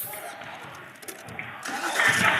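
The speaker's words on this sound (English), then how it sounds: "I'm going to start the car" A car engine starts outdoors: a quiet, brief crank about two-thirds of the way through swells into a louder running rumble near the end, with faint background noise before it.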